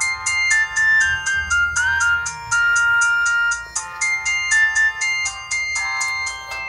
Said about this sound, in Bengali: ফোনটির মূল আকর্ষণ রিংটোন সেটার সাউন্ড একটু প্রুফ করে নেই যে ফোনটির রিংটোন কেমন ছিল